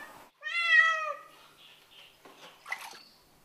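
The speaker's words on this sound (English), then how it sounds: "It soon stopped meowing and settled down and relaxed." A distressed cat rescued from a Bangkok flood gives one clear, close meow, followed by soft shuffling and faint splashing or dripping water in a quiet room.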